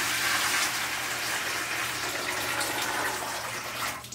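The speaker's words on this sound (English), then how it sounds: "pour 4 quarts of warm water right into the bucket with your cocoa fiber" Four quarts of warm water gush steadily into a bucket of cocoa fiber, a continuous close rushing pour that thins out near the end, with no speech.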